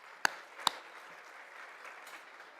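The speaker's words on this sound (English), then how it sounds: "Let's give you all a round of applause." Two crisp claps ring out near the start, then a soft, diffuse wash of crowd applause continues at a distance from a conference audience at a plenary breakfast.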